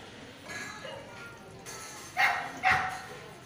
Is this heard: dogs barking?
yes